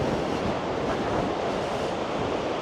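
Ocean waves break on the beach at Brighton as a continuous broadband roar of surf mixed with wind buffeting the microphone, fairly close, with no voices.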